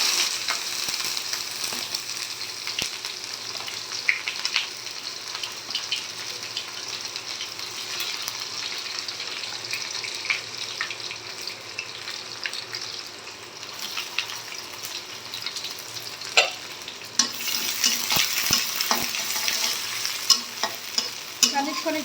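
Whole spices, cinnamon, cardamom, cloves and bay leaf, fry in oil as the base for a spicy goat meat curry, giving a steady close sizzle with occasional stirring scrapes and no talking.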